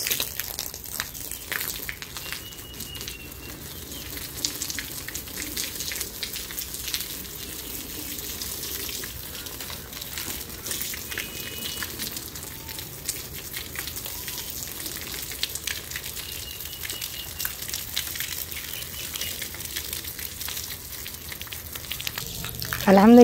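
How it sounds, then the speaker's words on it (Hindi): Water sprinkled by hand across an unpaved dirt courtyard at a Pakistani village home gives a steady, soft hissing patter that runs continuously at an even level with no talking. "अब जो है ना इसे छिड़काव लगाती हूँ मैं"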